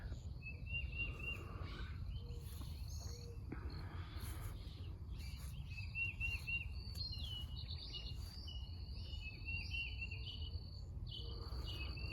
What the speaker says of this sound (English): So you can hear all the birds in the background, which is just lovely.